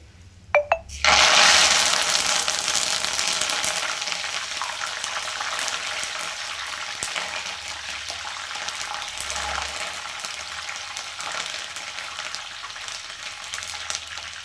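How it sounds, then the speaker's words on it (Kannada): Curry leaves hit hot oil for pakoda with a sudden loud sputtering crackle, then settle into a steady close sizzle that continues without voices. "ಇದು ಸ್ವಲ್ಪ ಫ್ರೈ ಆಗುತ್ತೆ"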